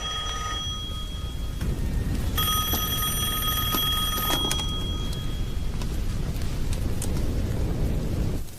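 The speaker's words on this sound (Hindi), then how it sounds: "वो फोन है।" An electronic telephone rings in short repeated bursts over a dense rumbling background during a dramatic scene in a Hindi-dubbed action film, with the ringing clearly standing out for a couple of seconds.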